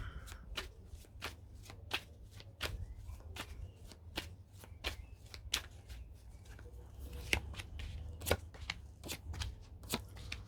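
Tarot cards shuffled and laid down with a steady series of crisp, close riffling snaps, repeated at a quick, regular rhythm over a low background hum, with no voice present.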